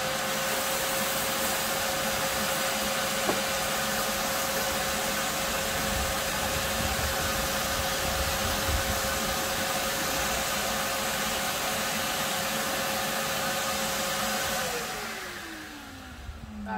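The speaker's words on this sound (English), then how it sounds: "we'll start off with the dreaded pine needles" A TITAN wet and dry vacuum runs steadily with a loud, constant whine and airy roar while sucking up pine needles, holding level for most of the stretch before winding down near the end.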